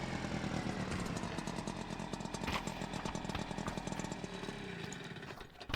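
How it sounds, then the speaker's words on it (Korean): A scooter engine buzzes and rattles steadily at close range, its rough revving drone continuing throughout before fading slightly at the end. "오토바이 소리 나는데"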